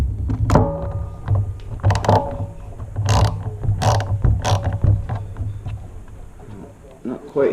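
Screws being turned by hand while fitting a Luna float seat onto a Sur-Ron X electric dirt bike: close, intermittent ratcheting clicks and small mechanical thunks, with a low steady hum underneath.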